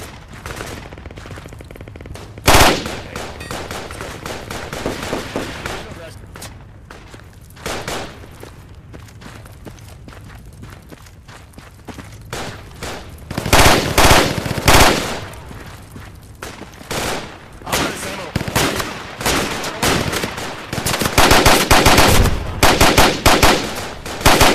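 Sustained gunfire in the military shooter Project Reality, with machine-gun bursts and scattered rifle shots swelling into dense, loud exchanges of fire toward the end, alongside occasional thuds.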